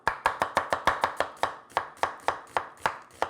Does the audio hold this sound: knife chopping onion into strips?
yes